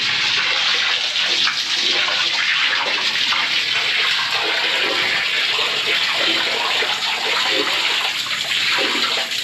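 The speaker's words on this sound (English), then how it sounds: "you can see the water running through and pushing the rest of the sewage through" Water rushes through a blocked sewer manhole at a hospital, pushing sewage along in a continuous loud gushing flow that holds steady throughout with no speech.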